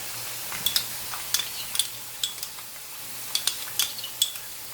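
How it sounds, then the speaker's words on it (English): Onions sauteing in a pan for biryani give a steady soft sizzle, broken by repeated light scrapes and taps of a spoon stirring against the pan. "Now I'm gonna let this cook, let this saute for a minute or two."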